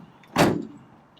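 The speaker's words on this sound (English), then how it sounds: "Let's pop the hood and see what's under here." A single sharp thunk as the hood of a fire-damaged Nissan GT-R is popped open, close and brief, then a short fading tail into quiet.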